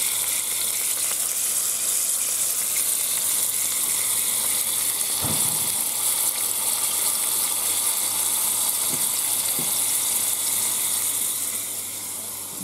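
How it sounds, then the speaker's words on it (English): Tap water runs steadily into a kitchen sink while a plate is rinsed, a continuous hiss with a few soft clunks of the dish against the basin. "Take my plate back over here and give it a rinse off"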